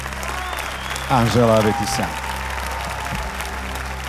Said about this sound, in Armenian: Այո, բարձր ծափարում ենք